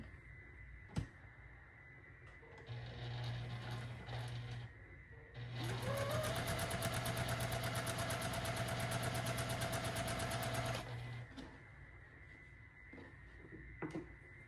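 A sewing machine stitches a quilt block in two runs, a short burst then a longer steady whir of several seconds, close and fairly loud, with quiet handling clicks around it.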